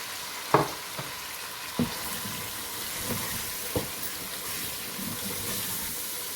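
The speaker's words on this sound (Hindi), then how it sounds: "थोड़ा सा इसे भूनेंगे ताकि इसका कच्चापन जो है वो निकल जाए।" Chicken nihari with spices sizzles in a pan while a spoon stirs it, steady frying hiss broken by a few sharp scrapes and clacks of the spoon.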